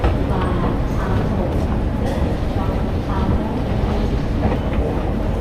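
Train moving through Sydney Central station with a continuous rolling rumble and rattle of the carriages, close and fairly loud, while people talk over it.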